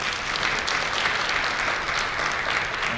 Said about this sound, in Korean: 다시 한번 우리 과세리 전 장관께 큰 박수 부탁드리겠습니다